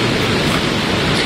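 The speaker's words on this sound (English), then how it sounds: "The winds only keep getting stronger through this area. We still get some of that driving rain that comes in as well." Hurricane winds and driving rain in Lake Charles, Louisiana, make a dense, loud, unbroken roar of rushing noise with no voices.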